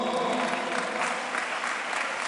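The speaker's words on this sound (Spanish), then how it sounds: "Denle un aplauso al Señor" A congregation applauds at a large church convention in Barranquilla, dense sustained clapping filling the hall at an even, loud level.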